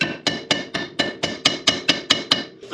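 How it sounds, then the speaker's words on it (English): A hammer strikes a car ball joint in about a dozen sharp metallic taps, spaced evenly at a quick steady pace, close and loud with short ringing decays and nothing else heard. "Give it a couple taps with a hammer."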